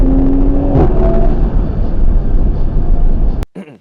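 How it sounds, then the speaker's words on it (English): A Ford Lightning F-150 electric pickup truck drives past with a loud, broad rolling road and motor roar, a brief rising whine partway through, before a sharp cut to quiet. "it was a Ford Lightning F-150 EV"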